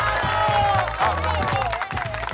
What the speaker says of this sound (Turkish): Bu alkış ne?